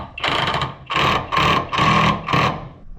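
A ratchet on a wobble extension tightens a worn bolt on a seat mount of a 1947 Plymouth Special Deluxe P15, giving four close, rapid clicking bursts separated by short pauses.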